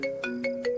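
A phone ringtone chimes in a quick repeating melodic pattern, several bright tones in under a second, clear and alone with no voices.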